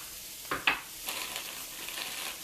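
Leafy greens and parsley hit a hot pan in a breakfast fry-up of curried vegetables, giving a couple of sharp crackling bursts followed by a softer, steady sizzle, close and without talk.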